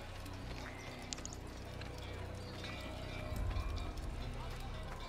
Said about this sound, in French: Alors, hop, un cheval.